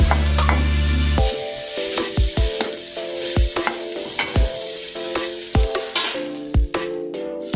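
Spicy noodles being stirred and fried in a pan: a steady sizzle broken by repeated sharp scraping and clanking strokes of a utensil against the pan, close and fairly loud, with no talking.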